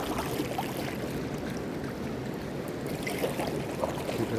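Small boat heading nose-first into waves on open water, a steady rushing, sloshing wash with soft splashes against the hull, moderately loud and continuous, with no talking.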